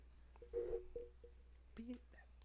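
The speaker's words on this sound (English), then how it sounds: "Oh, we got a phone call." Telephone call connecting on a radio talk show: faint tonal beeps and electronic line sounds, a short tone burst followed by a couple of softer tones, heard quietly with low murmuring nearby.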